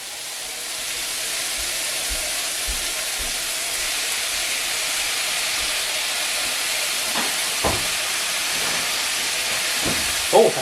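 General Tao sauce hitting a hot pan gives a loud, steady sizzling hiss that runs the whole time, with a few sharper sputters near the end.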